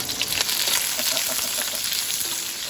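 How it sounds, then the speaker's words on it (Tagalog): Garlic and onion sizzle steadily in a hot pan with oil, a loud, continuous crackling fry with small pops, close by and uninterrupted by speech. "lagyan na po natin yung ating bawang sibuyas. Alright. Kaya lamang po natin siya dyan na mag-isa-gisa."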